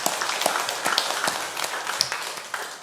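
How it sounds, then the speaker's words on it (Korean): A church congregation claps together, a fairly close, lively round of applause with distinct individual claps standing out from the steady patter. "우리 선임장로 타워 우리 박수 한번 합시다."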